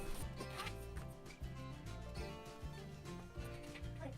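A zipper slider is pulled back and forth along a zipper on a handmade baby toiletry bag, producing quiet, rapid ratcheting rasps in repeated short strokes with a steady rhythm.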